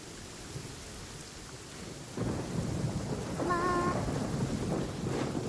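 Steady rain with rolling thunder in the video game Genshin Impact. A quieter patter swells into heavier, louder rainfall about two seconds in, with a few brief chime-like tones above the storm.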